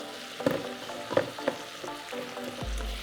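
Butternut squash and onions sautéing in an Instant Pot, a quiet steady sizzle with several sharp clinks and scrapes of a utensil against the pot.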